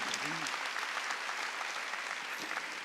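Church congregation at a Wednesday worship service clapping, a moderate wash of applause from many hands that fades slightly, with a brief voice near the start.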